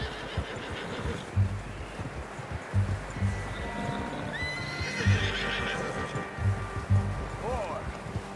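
A horse in the video game Red Dead Redemption 2 with steady clip-clopping hooves and rustling, then a high whinny and neigh, heard fairly close with faint talk underneath.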